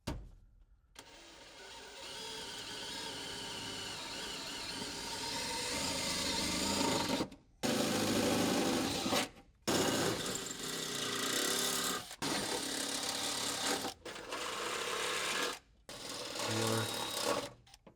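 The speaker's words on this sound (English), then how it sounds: "Okay, let's drill these out." Drilling noise in several sustained bursts, each running a few seconds, separated by short silent pauses; steady motor whine at close range while drilling holes to install a dual battery system in a Toyota Tacoma.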